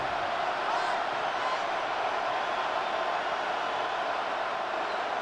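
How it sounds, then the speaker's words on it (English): A dense, steady roar of stadium crowd noise from a Madden NFL video game swells loud and continuous, with no distinct voices standing out. "This crowd trying to be a factor, getting very loud now."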